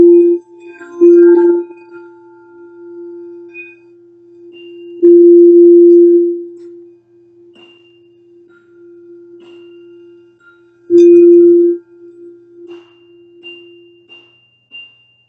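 Crystal singing bowls ring out with long, pure sustained tones, struck three times at even intervals, each strike swelling bright and then fading into a steady hum, calm and close.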